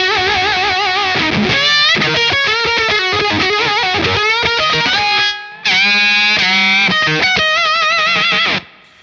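JHS fuzz pedal driving an electric guitar lead, aggressive and cutting with sustained bent notes and fast phrases, loud and continuous with one short gap midway, no talking.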